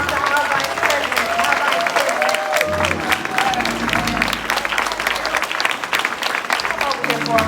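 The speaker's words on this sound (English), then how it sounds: "Another round of applause to our Vice President." Crowd applause for former Vice President Al Gore at a Louisiana speech, dense sustained clapping with cheers and voices mixed throughout.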